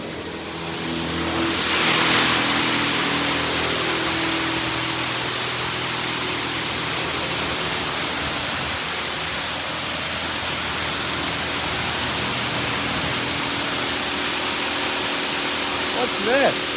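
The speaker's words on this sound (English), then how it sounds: "The pre-sale cleaning product is now being applied to your vehicle." At a poorly maintained Washworld Razor car wash, nozzles spray cleaning product onto a vehicle, making a loud, steady hiss that fills the whole stretch, with a machine rumble underneath and faint talk.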